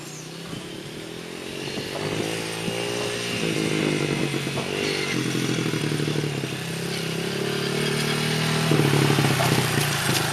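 A motorcycle engine runs steadily with a young rider aboard, its tone rising and falling through gear changes over about ten seconds, loud and close with no talk.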